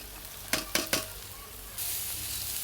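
Cooked umbar figs tipped into hot oil spiced with red chilli powder, coriander powder and turmeric, giving a few quick clattering drops followed by a steady, close sizzle.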